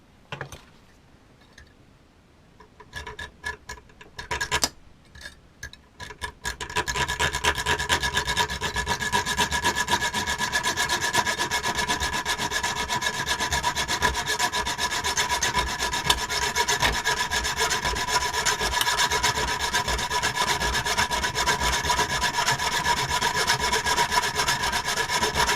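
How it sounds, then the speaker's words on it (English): A hacksaw cutting the tang off a spark plug during two-stroke engine timing work: a few hesitant strokes, then steady, continuous rasping saw strokes that carry on for about twenty seconds, loud and close with no talking. "just get a hacksaw, cut the thing off"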